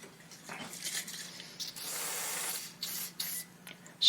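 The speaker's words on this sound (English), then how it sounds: "Spray it." Cleaner sprayed onto the bearing area of a Dansette turntable in a few short, close, soft hissing bursts, mixed with light handling clicks and rustles.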